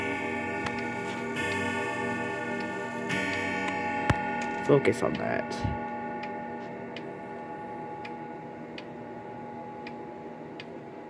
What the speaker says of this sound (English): See how the hand's moving with the ticking?